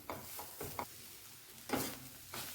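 Finely chopped coriander and salt being stirred in a pan, likely for sambar: a few soft, intermittent scraping strokes with a faint sizzle, quiet and close, no voices.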